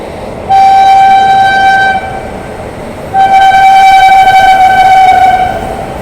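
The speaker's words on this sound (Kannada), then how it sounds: "ಯಾವುದೋ ಟ್ರೈನೋ ಗೂಡ್ಸೋ ಯಾವುದೋ ಬರ್ತಿದೆ" A train approaching and passing sounds two long, loud horn blasts, the second slightly longer, over a steady rumble, heard close by at a railway line in Karnataka.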